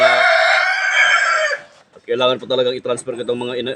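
A rooster crows loudly up close, then clucking and speech-like chatter follow in quick bursts after a brief pause.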